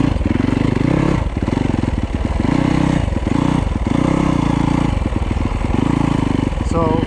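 A Yamaha YZ250F dirt bike engine revs loudly in snow, rising and falling as the throttle is worked, with a constant rattling beat and some clatter.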